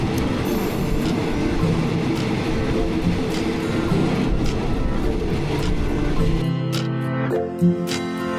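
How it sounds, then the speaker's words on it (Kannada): An overnight train bound for Bangkok, Thailand rumbles along at steady speed with a loud, continuous rolling roar and wheel noise, then brakes and squeals briefly near the end. "ಆ್ಯಂಡ್ ಮತ್ತೆ ನೋಡಿ ಟ್ರೈನ್ ಸ್ಟಾರ್ಟ್ ಆಯಿತು, ನಾವು ಬಿಡ್ತಾ ಇದ್ದೀವಿ."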